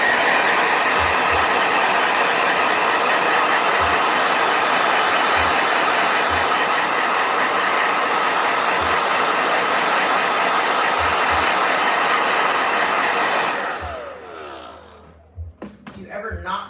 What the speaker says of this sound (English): Yeah. Blow dryer.